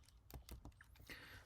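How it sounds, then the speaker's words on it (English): Quiet, irregular keystrokes on a computer keyboard while entering a spreadsheet formula, a short run of soft clicks heard alone. "then we're gonna start typing percent."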